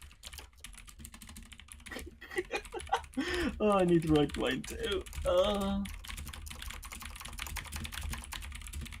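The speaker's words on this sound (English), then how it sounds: "That's some impassioned typing" Rapid, steady typing on a computer keyboard clatters throughout during a tabletop role-playing game session, with dense key clicks running under a short spoken line near the middle.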